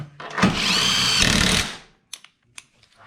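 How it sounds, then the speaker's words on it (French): A power tool drives screws into the starter mounting of a BMW 645i V8: one loud, sustained whirring burst of just over a second, followed by a few faint clicks and knocks. "On va visser ce côté-là. Voilà. Les deux vis de devant, là."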